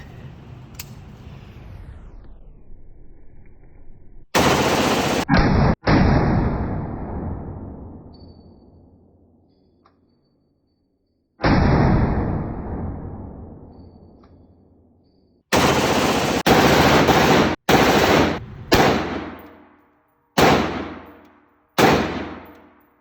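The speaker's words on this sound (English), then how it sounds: "offers fully automatic shooting of rifles" Fully automatic rifles fire at an outdoor shooting range in loud, close bursts that echo and fade, first a few long strings, then a quick run of shorter bursts near the end.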